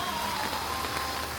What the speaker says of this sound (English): Even though it's raining, it's nice to have a good weather